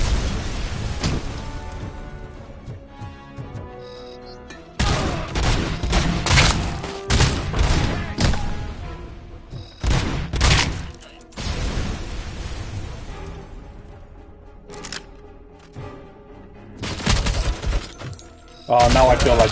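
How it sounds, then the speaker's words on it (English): Grenade explosions and gunfire in a video game erupt in loud, sudden bursts and booms, separated by short lulls, with rapid shots clustered between the blasts. "Man, they love throwing grenades."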